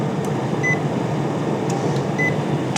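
An air fryer running while baking granola gives a steady, even fan whir and hum that holds unchanged throughout, close and moderately loud, with no talking.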